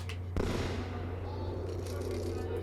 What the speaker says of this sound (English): you love how no one reacts to the gunshot